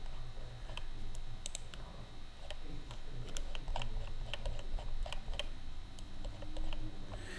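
Quick clicking keystrokes on a computer keyboard, irregular taps at close range, fairly faint over a low background hum.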